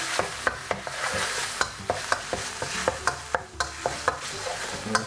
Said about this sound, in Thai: ผัดตัวพริกแกงพะแนงนะครับ ให้เข้ากับตัวกะทินะครับ